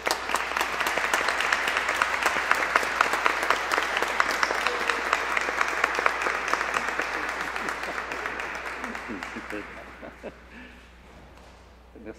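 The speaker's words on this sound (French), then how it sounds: "si vous voulez bien les applaudir" A congregation at Sunday Mass claps together in a church, steady dense applause that carries on for about ten seconds and then fades to a few last claps. Murmured voices sit underneath.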